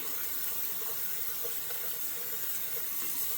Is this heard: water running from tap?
yes